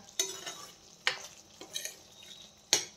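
Potatoes being stirred in masala in a pan for Kashmiri-style dum aloo, heard as four brief scraping, clattering strokes of a spoon against the pan, fairly close and separated by short quiet gaps.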